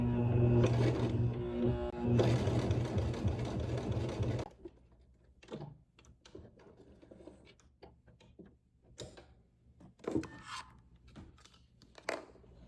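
A sewing machine runs a fast, loud, continuous stitch along a dress neckline seam for about four seconds, then stops. Quieter fabric handling and scattered small clicks follow.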